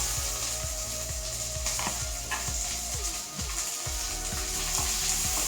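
Chopped shallots fry in a pan for butter kappa, Kerala style, a steady close sizzle with occasional stirring clinks and scrapes, no talking over it.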